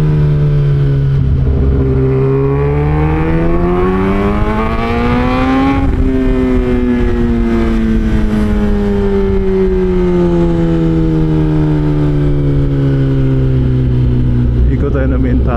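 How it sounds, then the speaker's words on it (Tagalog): A motorcycle engine runs steadily after a long period of not being started, with rising and falling revs that climb to a peak near the middle and then ease back to a lower idle, heard close and continuous. "Tagal din kasi hindi napandar tong motor na ito."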